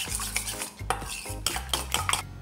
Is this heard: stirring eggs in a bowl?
yes